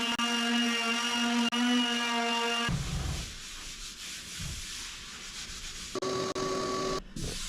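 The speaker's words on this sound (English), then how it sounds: "so I switched to the palm sander with the 150" Palm sander fitted with 150-grit sandpaper working over a 25-year-old wooden kitchen table, a steady close whirring hum with a tonal drone that shifts and drops partway through, then resumes.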